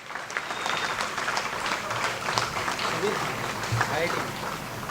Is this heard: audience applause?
yes